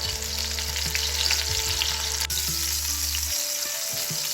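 Pork shoulder and lamb shank sear in a hot pan with a steady, loud, close sizzle, over a low hum that cuts out near the end.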